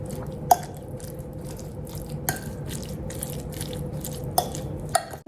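Cooked black-eyed peas being mashed for patties, soft wet squelching with a few sharp clicks of utensil against bowl, close and fairly quiet.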